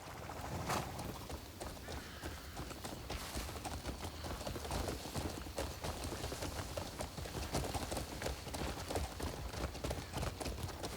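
Horse hooves clip-clopping in the video game Crimson Desert, a steady, continuous trotting rhythm at moderate level with a faint background bed throughout.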